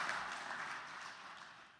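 Mourners at a celebration-of-life memorial service clap together, a soft, steady spread of applause that slowly fades over a couple of seconds, heard from some distance with no talking.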